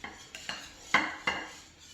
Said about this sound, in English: I'm going to go ahead and spread this over the crackers